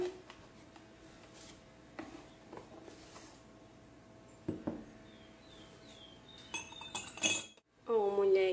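A small glass candy dish lid clinks and taps in a few light, scattered contacts against a quiet background, followed near the end by brighter chiming glassy sounds.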